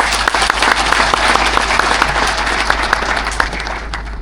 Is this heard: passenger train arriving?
no